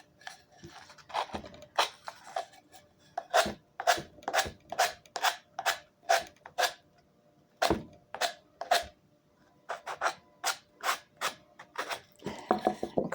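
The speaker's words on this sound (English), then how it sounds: "And you just sand. And you go down in a sweeping motion." Repeated sweeping sanding strokes across a smooth surface, each a short rasping burst in a steady rhythm with brief pauses between, close and fairly loud, with no talking.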